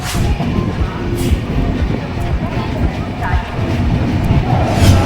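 Steady rumble and rattle of a moving overnight passenger train heard from inside a carriage, continuous and fairly loud with faint clicks along the rails.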